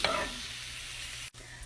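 Onions with a pinch of salt frying in a pan give a steady sizzle, a brief stirring scrape at the start, and a short break near the end before the sizzle returns.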